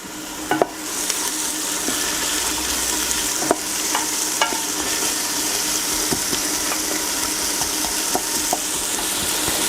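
Onions for lentil soup frying in hot oil while being stirred around the pan: a continuous bright sizzle close by, with scattered clicks and scrapes from the spoon and no talking.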